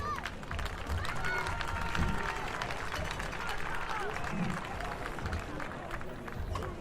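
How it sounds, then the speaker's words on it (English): A crowd at a high school football game between Crockett and Groesbeck applauds, a broad, steady wash of clapping from the stands, with some voices and cheering blended in across the whole stretch. "I ask that you show them that you understand their job by a round of applause"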